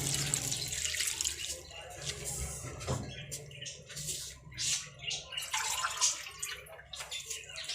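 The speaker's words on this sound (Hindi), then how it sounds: "ये 2 गिलास पानी डाल दिए।" Water from two glasses pours into a cooking pot of saag with garlic, green chilies and salt, a splashing, trickling gush with drips that comes and goes, close by, with a voice talking in the background.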